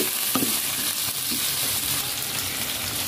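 Meat for adobo fries steadily in a pan over medium heat, giving a dense, continuous sizzle broken by a few soft scrapes from stirring.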